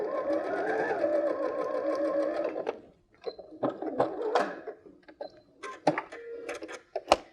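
Sewing machine stitching a rose quilt block: a steady whirring run of needle strokes for a few seconds, then stops, followed by scattered handling clicks and fabric rustles close by, with faint background voice.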